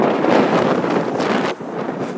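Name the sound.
strong wind on a boat deck in the Bosphorus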